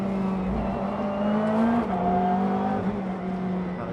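A GT race car at Oulton Park brakes hard into a corner, its engine note stepping down through quick downshifts into first gear, loud and close with rising blips between the changes.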